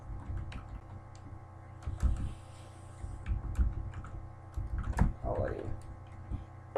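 Typing on a computer keyboard while entering a short account description: soft, irregular key clicks in quick clusters over a steady low hum, fairly faint and close.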